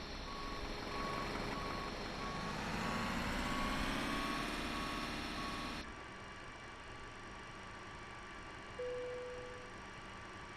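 Baggage loading vehicle working at the rear of an MD-80 (Maddog X) airliner in a flight simulator game: a steady engine drone with a sweeping whine and reversing beeps, which cut to a lower, quieter hum partway through.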